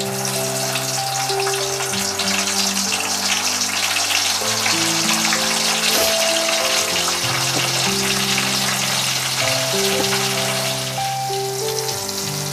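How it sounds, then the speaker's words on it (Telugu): Boiled bitter gourd pieces deep frying in a wide pan of oil, a continuous rain-like sizzle and crackle that holds steady throughout, loud and close, with tonal background music underneath and no talking. "మరో పక్కన మనం ఉడికించుకున్న కాకరకాయ ముక్కలను డీప్ ఫ్రై చేసుకోవడానికి ఒక వెడల్పాటి ప్యాన్ పెట్టుకున్నాను, అందులో డీప్ ఫ్రైకి సరిపడ ఆయిల్ వేసుకొని కాకరకాయ ముక్కలను ఒక్కొక్కటిగా ఇందులో వేసుకుంటున్నాను।"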